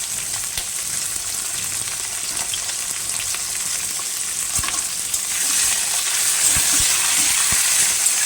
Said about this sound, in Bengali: এবার আমি দিয়ে দেবো পেঁয়াজ কুচি, তার সাথে আমি অল্প একটু আদা দেবো।